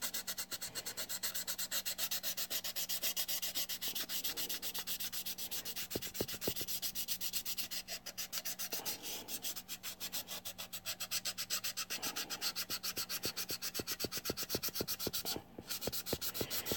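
A fine 3M abrasive pad rubs steadily back and forth over a surface in a model build, giving a continuous close scrubbing texture with quick rhythmic strokes throughout, no voices present.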